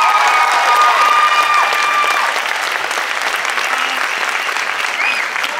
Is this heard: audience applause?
yes